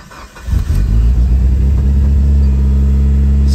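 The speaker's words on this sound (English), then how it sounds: "let's go for our first cold start in 3 days" A Mitsubishi Evo 8 RS engine cranks and catches on a cold start after three days, then settles into a loud, steady, rumbling idle close by, with an exhaust leak.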